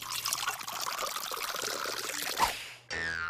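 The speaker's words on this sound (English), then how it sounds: "Take a large jar and you fill it almost to the top with water." Water pours steadily into a large jar close by, a continuous gurgling stream that rises in pitch as the jar fills, then stops abruptly before a brief tonal sound.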